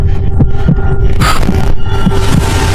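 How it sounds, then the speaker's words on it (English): A loud, steady heartbeat thumps in a regular slow rhythm of paired beats over a low continuous hum, with no voices, in a tense horror setting. "My heart beat continuously like it was about to jump out of my chest."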